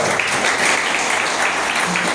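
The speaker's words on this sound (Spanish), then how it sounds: "¿Cuánto le damos un aplauso a Jesús?" A church congregation claps together in a loud, continuous round of applause lasting a couple of seconds, with no clear talking over it.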